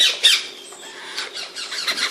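Baby parrot squawking in short, shrill, repeated bursts during crop feeding, close and fairly loud with brief gaps between calls.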